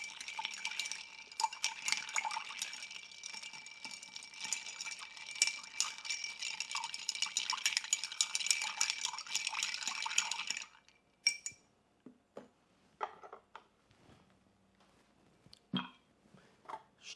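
Ice rattling and clinking against a mixing glass as a Mezcal Negroni is stirred, a dense steady jangle for about ten seconds, then stopping, followed by a few scattered clinks and taps.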